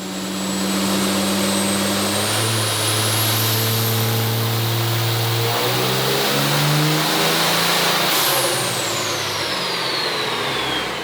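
A heavily built diesel pickup, a 2004 VP44 engine making around 900 horsepower, revs hard on a dyno. Its harmonics climb steadily, then fall away and rise again, with a loud, sustained roar and a rising turbo whine above, and no talk.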